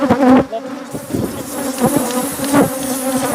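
A swarm of killer bees buzzes loudly up close, a dense droning hum with individual insects swelling past in repeated surges.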